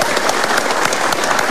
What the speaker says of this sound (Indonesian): Sebelumnya boleh tepuk tangan dulu buat Nek Dani, Andika Jamil, Kang Sule, dan